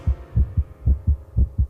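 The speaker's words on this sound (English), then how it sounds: "This is what most people's heart rate sounds like when they're getting their taxes done." A rapid, stressed heartbeat thumps in quick, deep double pulses, about five beats in under two seconds, close and alone with a low hum beneath.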